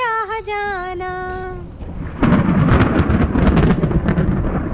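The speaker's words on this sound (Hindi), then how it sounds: "बिजली कड़कने लगी और जोर की बारिश होने लगी।" A thunderstorm breaks with thunder and heavy rain: after a brief tonal vocal-like opening, a loud, dense rumble and roar of downpour sets in and holds steady to the end.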